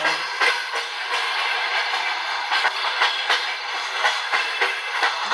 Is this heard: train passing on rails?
yes